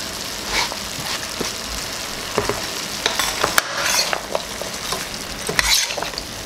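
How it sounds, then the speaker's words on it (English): Chopped carrots, pumpkin, onion and scallions go into a pot of Trinidad pigtail pelau, giving a loud steady sizzle with scattered clatters and scrapes as the vegetables are stirred in. No one speaks. "I'm also going to add the chopped carrots, 2 carrots, the pumpkin, the medium onion, and the chopped scallions for another level of flavor."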